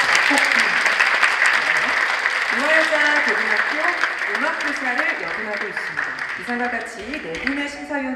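An audience at a 2022 multicultural migrant choir competition applauds the judges, with steady, sustained clapping while a voice speaks over it throughout.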